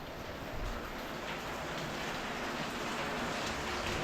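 Rain and floodwater pour through a narrow alley in Pasig during a typhoon, producing a continuous, dense, hissing wash of noise at moderate volume, steady from start to finish.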